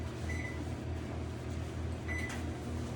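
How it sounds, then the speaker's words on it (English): A microwave oven melting butter gives off a steady low hum, with faint mechanical ticks and a brief tone repeating twice, running alone without talk. "we're going to microwave the butter again because we need a half a cup of melted butter for this part"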